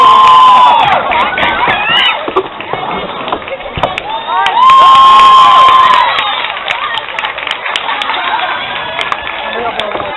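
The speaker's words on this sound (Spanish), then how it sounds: "por favor, un fuertísimo aplauso para Víctor" A crowd at a costume runway contest cheers and shouts loudly, with excited high-pitched voices rising in waves and some clapping mixed through the noise.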